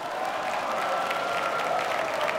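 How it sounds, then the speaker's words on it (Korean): Audience applause at a trot singing contest, a steady dense patter of many hands clapping throughout, fairly close and moderately loud. "여러분 다시 한번 뜨거운 박수 부탁드립니다."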